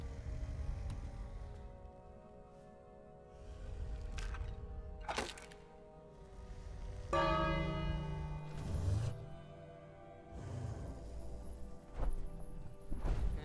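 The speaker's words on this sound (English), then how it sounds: "So we're gonna hit the dinner bell." Dinner bell in the King's Quest video game, rung in a few separate metallic strikes with ringing decay, mixed with clattering game sound effects and crashes, fairly faint overall.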